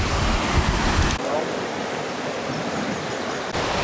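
A waterfall near Benidorm, Spain, heard from its upper point, gives a steady, loud rushing roar of falling water, continuous and broadband throughout.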